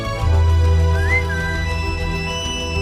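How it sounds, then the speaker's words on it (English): A single breathy flute-like note rises and bends briefly over a steady background of sustained tones, sounding more like someone whistling than a real flute. "Here's the flute."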